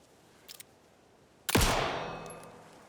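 A single loud gunshot in Alan Wake II that rings out and decays over about a second, preceded by two faint clicks, with no voices.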